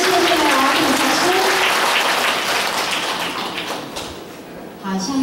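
Dense, sustained audience applause fills a temple inauguration ceremony, steady and loud at first, then thinning slightly toward the end, with faint voices underneath.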